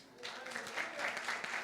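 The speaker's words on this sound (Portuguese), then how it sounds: "Pode aplaudir Jesus." A church congregation stands and applauds during a sermon, a steady moderate clapping that swells slightly, with a voice speaking over it.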